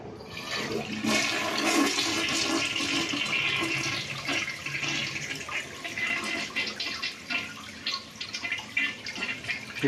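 A worn old toilet tank is flushed and water rushes loudly at close range, then settles into gurgling and trickling refill sounds with scattered drips.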